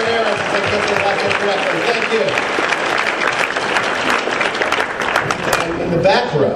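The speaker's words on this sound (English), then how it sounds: "A big round of applause for Aaron" Comic Con panel audience at a New York convention claps in a dense, loud, sustained round of applause, with scattered voices mixed in throughout.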